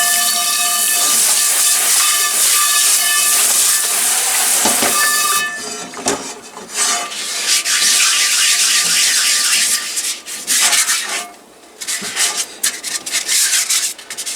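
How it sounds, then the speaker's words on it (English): Harsh, continuous abrasive grinding and rasping from a power sander taking rust off cast iron, loud and close, with brief pauses and changes in pressure. "Not sure how much you can hear me talking over the sanding."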